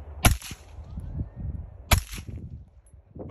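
A carbine rifle fired twice outdoors, two sharp loud cracks about a second and a half apart, each with a short ringing tail, over low background rumble.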